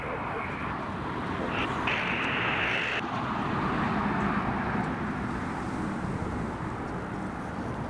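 Cargo plane climbing away from Newcastle Airport in stormy weather, a steady broad jet roar held at a fairly constant level throughout, with a brief higher whine in the middle and no talk.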